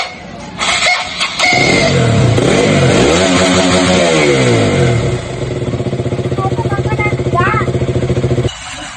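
A KTM Duke 200 stunt motorcycle under repair fires up loudly, revs rise and fall, then it settles into a pulsing idle before cutting off near the end.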